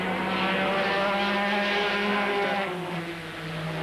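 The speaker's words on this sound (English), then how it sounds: "The Ferrari sweeps down off the banking again." A Ferrari race car engine at historic racing at Montlhéry, Paris, roars loud and steady as the car sweeps down off the banking, holding a sustained droning tone that dips slightly near the end.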